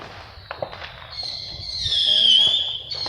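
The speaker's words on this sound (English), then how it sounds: "There's so many fireworks." Fireworks go off with a few sharp pops, then a long rising whistle that swells and fades; the bursts sound fairly near while people talk and react over them.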